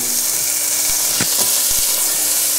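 Chopped onions frying in olive oil and butter for a fish pie, a steady close hiss of sizzling fat with a few soft knocks as they are moved about in the pan.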